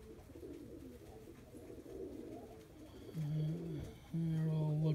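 Tippler pigeons cooing in a dry loft, low rolling coos that swell loud and close toward the end over a soft murmur of movement.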